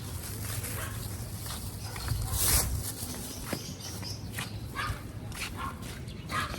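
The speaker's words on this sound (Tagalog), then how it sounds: "Guys, ang daming aso dito." Several dogs bark at a distance outdoors, giving intermittent yips and barks over steady background noise with faint voices.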